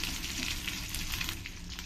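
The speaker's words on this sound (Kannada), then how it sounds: "ಈರುಳ್ಳಿ ಎಲ್ಲ ಒಂದು ಸ್ವಲ್ಪ ಟ್ರಾನ್ಸ್ಪರೆಂಟ್ ಆಗೋವರೆಗೂ ಚೆನ್ನಾಗಿ ಫ್ರೈ ಆಗಬೇಕು" Onions and green chillies frying in oil in a pan make a brief, even crackling sizzle, close and steady with no voices.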